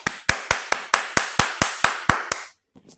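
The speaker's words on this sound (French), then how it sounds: "Applaudissons-le" Rhythmic clapping of hands, about ten sharp, evenly spaced claps close by, then stopping abruptly with a few faint sounds after.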